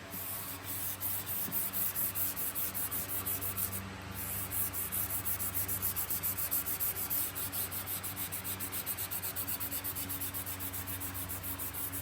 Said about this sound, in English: now I get to go to 320 and hand sand the rest